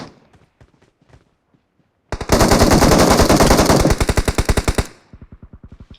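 Rapid automatic gunfire from the video game PUBG Mobile rattles loudly for nearly three seconds, then trails into a slower string of shots after a few faint clicks.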